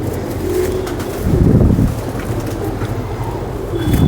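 Pure Tonki pigeon hen cooing softly and close, in low repeated throaty coos with a fuller swell in the middle, over light wind noise and no talking.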